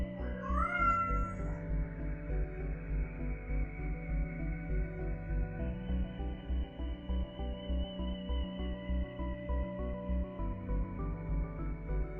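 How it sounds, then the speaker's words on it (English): A cat gives a brief rising meow near the start, set over steady rhythmic background music that continues for the rest of the passage. "with me as always is Vega the cat"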